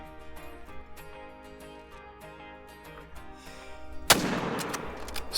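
A single loud, sharp rifle shot cracks at a red deer stag partway through, followed by a rolling echo, in theHunter: Call of the Wild video game; quiet game ambience comes before it.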